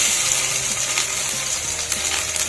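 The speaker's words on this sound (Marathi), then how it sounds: "लसूण भाजून घ्यायचा चांगला" Garlic frying in a little oil for a vada pav chutney gives a steady, close, even sizzle that runs without pause or talk.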